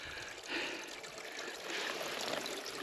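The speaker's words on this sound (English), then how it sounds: "I'll be able to fill my water bottle and my mini well filter." Water trickling and splashing from a clear hillside stream in the Campsie Fells as a water bottle is filled, a steady bright hiss with two slightly louder surges, close and unaccompanied by talk.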